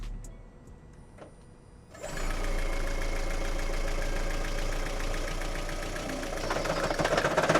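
A rebuilt Lexus engine cranks: after a quiet start with small clicks, the starter kicks in at about two seconds with a loud, rapid, rhythmic churning that continues steadily without the engine catching.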